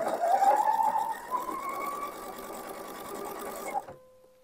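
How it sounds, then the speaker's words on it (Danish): A coverstitch sewing machine runs close and loud, stitching a seam and then reversing briefly for a securing backstitch, a steady whirring hum that cuts off abruptly near the end. "Og jeg skal lige sikre sømmen med et lille hæft."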